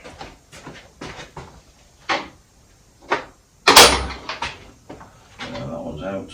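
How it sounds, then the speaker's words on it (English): Several sharp metallic knocks and bangs at uneven intervals as bolts are knocked out of a Suzuki TS400 motorcycle frame, one much louder strike midway, with clattering after, close by. "So, let's knock the bolts out."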